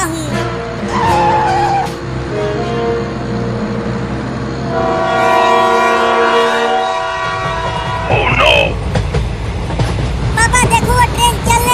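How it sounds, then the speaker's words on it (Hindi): Cartoon train pulling away: a loud horn-like tone with rumbling and squealing wheels, layered with music-like tones, close and continuous with no clear speech. "पापा देखो, वो ट्रेन चलने लगी।"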